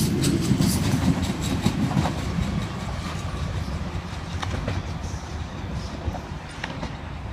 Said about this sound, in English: And we have Waratah A57 departing platform number 4 for an all stations to Blacktown service.